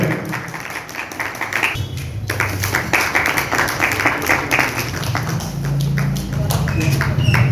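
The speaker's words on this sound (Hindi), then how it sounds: "जोरदार तालियों से प्रवीण का अभिनंदन है" Loud, steady applause from a crowd welcoming a guest at a road inauguration in Babarpur, with an announcer's voice heard over the clapping.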